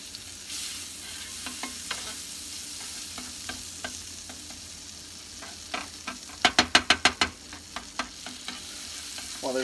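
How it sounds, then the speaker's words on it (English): Butter sizzling in a very hot pan for French toast, a steady soft crackle punctuated by a run of sharp, loud spattering pops near the end, close by with no talk. "Well, there's lots of butter here to get every corner of the pan."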